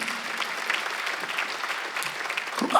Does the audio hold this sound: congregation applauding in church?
yes